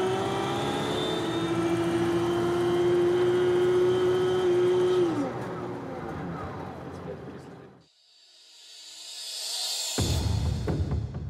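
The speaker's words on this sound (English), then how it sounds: "And if you press against this resistance, the compressor is activated." A heavy armored Mercedes limousine engine revs up with its supercharger compressor engaged, a loud rising drone and whine that holds, then fades away before a harsh close burst returns.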